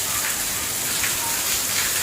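Heavy rain pours steadily in Rajkot, a dense, loud hiss of water with no break and no clear thunder clap.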